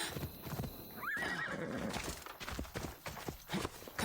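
Horse in the video game Assassin's Creed Odyssey lets out a clear whinny while hooves clip-clop at a gallop underneath, close and fairly loud, with game ambience around.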